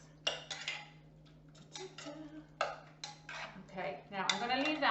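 A utensil clinks and scrapes around a bowl while tomato bruschetta topping is stirred with balsamic vinegar, in short, close bursts between pauses, as someone talks over it.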